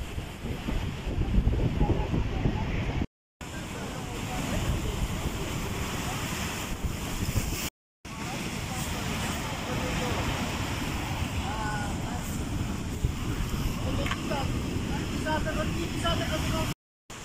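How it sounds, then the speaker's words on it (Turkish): Giant sea waves surge over a coastal road, striking parked cars and seafront houses: a continuous loud roar of crashing surf and rushing water mixed with heavy wind buffeting, broken by two brief silent gaps. "Görüntülerde dev dalgaların yolu aşarak park halindeki araçlar ve evleri vurduğu görülüyor."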